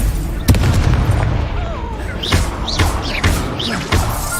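Confringo fire-blast spell in Hogwarts Legacy on PS5, loud booming bursts repeating several times amid game effects and rumbling, with a caster's voice shouting spell names.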